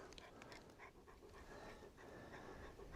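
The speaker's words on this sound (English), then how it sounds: "You're making a lot of noise, dog." A dog panting rapidly in the rough terrain of the Gila Wilderness, quick rhythmic breaths very close but faint, with soft rustling underneath.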